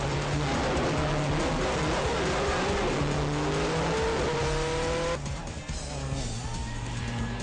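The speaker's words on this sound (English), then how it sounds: "Kris Meeke and Paul Nagle in the S9 Subaru Impreza World Rally car started off Day 2" A Subaru Impreza World Rally Car at full attack on a stage of the 2009 Barbados rally, its engine screaming loudly and continuously through gear changes and a lift partway through.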